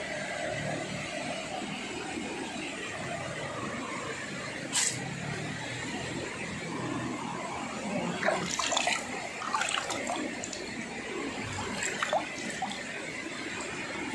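A hand dips into and stirs a stream's flowing water beside the Ciaruteun inscription stone near Bogor, a steady close trickle and splash over the rush of the current, with a few brief sharper splashes.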